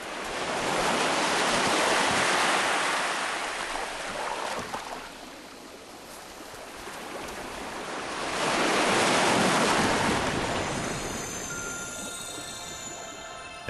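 Ocean surf rolls onto a sea-turtle nesting beach in two broad, loud swells of crashing waves with wind noise, each surge building and then easing back, and no voices.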